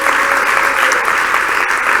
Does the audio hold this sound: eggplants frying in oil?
no